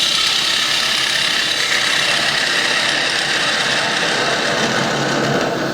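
A wood lathe spins a bowl blank as a handheld tool cuts it, giving a loud, continuous whirring scrape that holds steady throughout with no talk.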